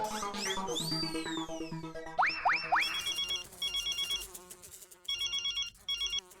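A telephone rings while someone calls an inspector: a melodic electronic ringtone with rising chirps followed by repeated bursts of ringing, fairly clear and alone.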